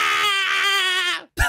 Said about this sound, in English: Did you guys hear that scream?